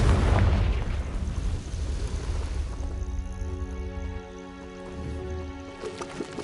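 A Confringo curse explosion in a video game: a loud, deep blast bursts at the start and rumbles out, then fades into a softer ringing tail.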